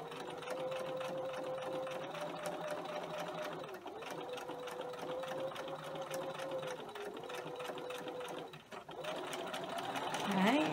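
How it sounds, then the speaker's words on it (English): A sewing machine stitches a garden apron, a close, fast mechanical hum with rapid ticking that runs steadily, pauses briefly a few times and resumes, while a person talks at times. "I'll back tack. That's why my machine wasn't moving there for a while."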